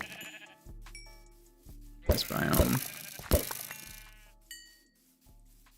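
Sheep bleat in the Minecraft modpack GregTech New Horizons, a few short game-sound calls scattered between bursts of louder noise while someone talks over them.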